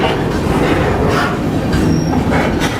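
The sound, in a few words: freight train rolling slowly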